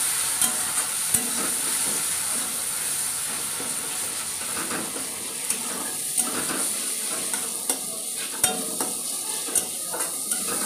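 Tengra fish curry with red chili powder, coriander powder and spices simmers in a pan under a steady sizzle while a spoon stirs, clicking against the pan in an irregular rhythm, close and fairly loud, with no speech.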